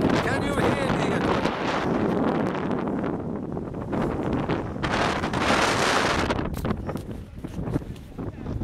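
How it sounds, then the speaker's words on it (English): Strong gusts buffet the microphone on a hill near St Michael's Church, Brentor, Devon, producing loud rumbling roars that rise and fall, with a voice faintly audible underneath. "the wind has picked up slightly"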